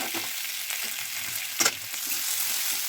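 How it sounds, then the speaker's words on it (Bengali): Chopped onion and green chili hiss in hot oil with cumin seeds in a kadai, a moderate, close sizzle with brief scraping stirs and one sharper clatter partway through. "তার উপর জিরে ফোড়ন দিয়ে পেঁয়াজ কুচি এবং লঙ্কা কুচি দিয়ে সামান্য নাড়াচাড়া করে"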